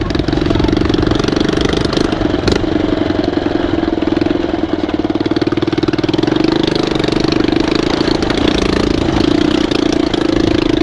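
A motorcycle engine idles loudly and steadily at close range for the whole stretch, a continuous even drone with a slight rhythmic pulse, on a muddy riverside trail in Dhorpatan, Nepal, after water got into the exhaust.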